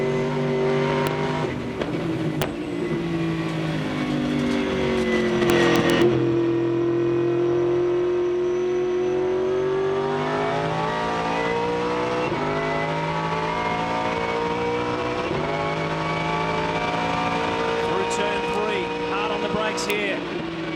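A 2002 V8 Supercar races at full speed at Phillip Island. Its loud, continuous V8 roar climbs and shifts through the gears toward a fast corner, close and sustained throughout.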